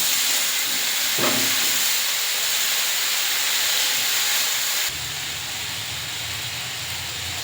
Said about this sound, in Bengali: এতে ভালো করে সবজিগুলো ভাজা ভাজা করে নেব।